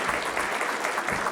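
An audience at a health talk on perimenopause and menopause gives a round of applause, a short burst of dense, steady clapping heard at moderate loudness throughout.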